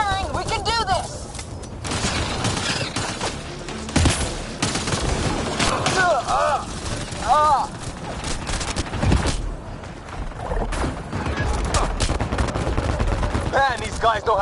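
Rapid bursts of automatic gunfire and explosions from an action game on PS4, loud and continuous, overlapping with shouted voices and a brief electronic whine.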